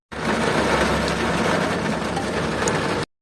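Steady rain falls, a dense even hiss with a low rumbling undertone that holds unbroken for about three seconds before cutting off.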